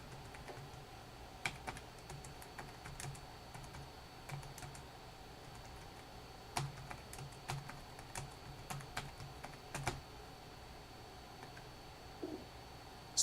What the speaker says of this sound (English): So I'm just gonna try manually typing it.